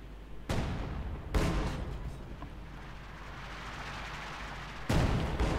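Heavy booming blasts from an artillery barrage in Company of Heroes 2: three sharp explosive impacts spaced seconds apart, with rumbling noise continuing between them.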